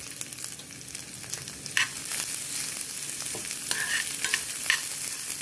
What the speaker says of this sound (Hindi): जो दाल मैंने 10 मिनट भिगो के रखा था इसे हम लोग डाल देंगे और इसे भी भूनेंगे